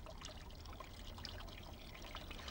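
Water flows along guttering carrying sand and pebbles into a tank, making a faint, continuous trickling with soft bubbly detail throughout.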